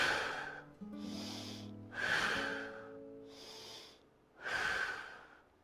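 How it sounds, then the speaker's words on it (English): Deep, slow breaths are taken and released during a yoga pose, with several audible inhales and exhales close to the microphone over faint, low background tones. "3 breaths here"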